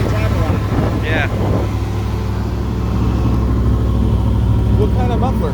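A 1992 Chevrolet 454 SS pickup on a fresh tune-up sits at a steady, loud high idle through Flowmaster mufflers, a constant deep rumble throughout, with brief speech from nearby people over it.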